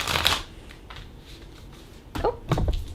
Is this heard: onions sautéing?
no